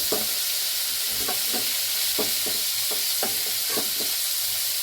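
Cauliflower florets fry in oil in a pan for a korma and are turning brown, giving off a constant bright sizzle. Short scraping knocks from the stirring utensil break in irregularly over the hiss, with no voices.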